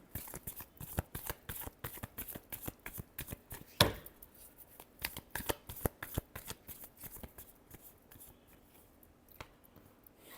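Tarot cards are shuffled close by in a rapid run of crisp riffling slaps and flutters, one sharper burst partway through, with no talking.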